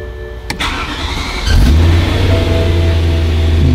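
A BMW E92 M3 being restored starts up: a short whir of the starter, a catch at about a second and a half, then a steady loud rumbling idle close by with no talk.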